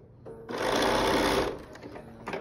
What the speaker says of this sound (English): And after you're done sewing,